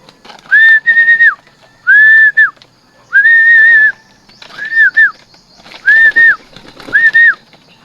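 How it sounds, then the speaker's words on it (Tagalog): Racing pigeons return from a 111 km flight, with a series of loud, clear tonal whistles in short repeated bursts, about six in quick succession, close by and with no voices. "Nakakababa lang na rin mga kalapati ko."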